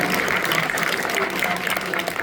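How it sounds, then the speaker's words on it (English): A crowd at a December 2024 Scott Presler speech gives a round of applause, with thick, continuous clapping and some crowd murmur mixed in, steady and full for the whole stretch. "if we can give him a round of applause"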